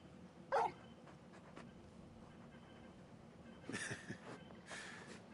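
A very large dog in Final Fantasy XVI on PS5 gives one short, sharp whimper. Softer whines and rustles follow a few seconds later, all at low volume.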